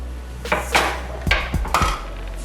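A knife chops a bell pepper and an onion on a cutting board in a home kitchen, giving a few distinct, close, sharp knocks in an irregular rhythm.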